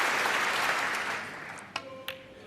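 Audience applause fills the arena at the 2019 Masters snooker match between Judd Trump and Ronnie O'Sullivan, loud at first and then fading, followed by a couple of sharp clicks.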